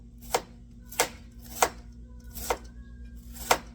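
A knife thinly slices an ingredient for homemade honey syrup on a cutting board: five crisp, evenly spaced chops, close and distinct, with quiet between strokes.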